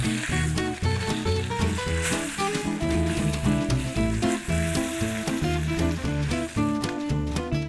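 A steak fillet sears in a hot frying pan, giving a steady, close sizzle that runs the whole time, partly buried under loud background music.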